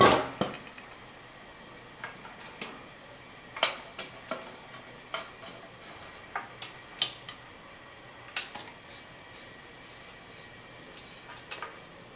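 Metal lid clanking onto a hot pot of boiling water while canning potatoes, a scattered series of sharp clinks and taps at close range over a quiet background.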